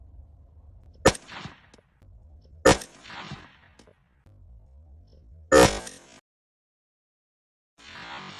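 A rifle shot fired on a hog hunt rings out as a sharp, loud crack, followed by two more similar sharp reports spaced a few seconds apart, outdoors and close.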